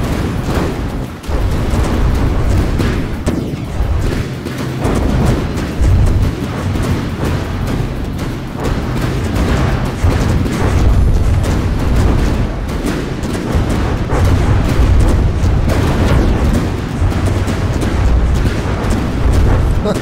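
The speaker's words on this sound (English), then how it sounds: "Oh, there goes that nuke." Nuclear explosions in the naval combat game From the Depths, a loud sustained roar of blasts and deep booms rumbling continuously with overlapping bursts and no voices.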